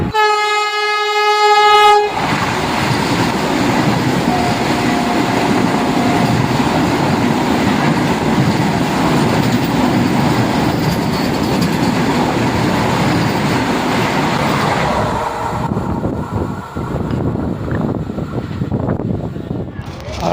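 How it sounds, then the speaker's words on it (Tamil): Express train number 20628, Nagercoil–Chennai Egmore, overtakes on the adjacent track; a loud horn blast opens, then a sustained heavy roar of passing coaches with rumbling wheels fills most of the clip before tapering off. "நம்மளை ஓவர்டேக் பண்ணிட்டு போகிற ட்ரெயினோட பேர் பார்த்தோம்னா 20628 நாகர்கோவில் சென்னை எக்மோர்"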